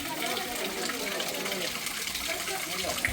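Steady gushing water pouring down from above at the Hanuman Dhara temple in Chitrakoot, a continuous close splashing rush with a voice talking over it.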